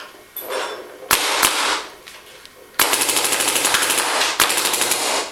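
A DM7 paintball marker fires in bursts outdoors: a few separate pops, then a long rapid string of sharp, evenly spaced shots, a short pause, and another quick volley, loud and close with no talking.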